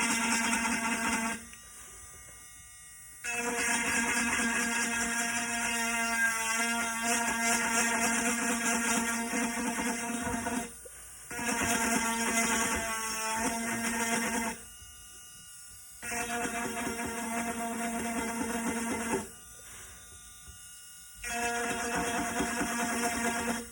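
A power grinder grinds a tumbler so a jump ring will fit, several steady buzzing bursts of a few seconds each separated by short pauses, close and fairly loud.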